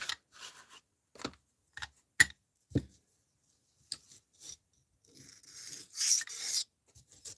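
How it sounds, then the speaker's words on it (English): A blade is sharpened on an old Norton sharpening stone, producing several short, separate scraping strokes close by, with quiet pauses between them and a longer, rougher rasping at the end. "Use my old school Norton sharpening stone."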